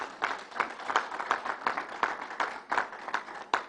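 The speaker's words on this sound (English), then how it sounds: "Let's give Northwell a round of applause." A crowd at a public announcement event applauds, giving a sustained, even wash of hand claps with occasional louder nearby claps standing out.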